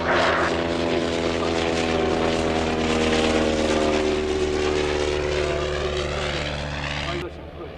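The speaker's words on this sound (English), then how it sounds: "they've been joined by a 3rd aircraft, which is the Shuttleworth triplane" A vintage propeller aircraft, the Shuttleworth triplane, drones loudly and steadily through a flypast at an evening air show, its engine hum continuous before cutting off abruptly near the end.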